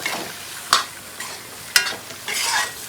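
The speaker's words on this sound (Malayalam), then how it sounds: "പോത്ത് കടന്ന് തിളയ്ക്കുന്ന കണ്ടോ മച്ചമാരെ?" Beef curry sizzles and bubbles in a hot pan, with a steady frying hiss broken by a few sharp spoon-on-pan stirring clacks; no voices.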